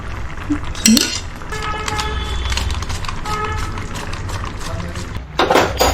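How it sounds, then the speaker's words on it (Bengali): A spoon clinks against a pan while homemade ghee is spooned onto lachha paratha, with light scraping and a soft wet pour over a low background hum. "দিস ইজ দ্য ঘি মেড বাই মি এর মধ্যে দেব আমি এক চামচ"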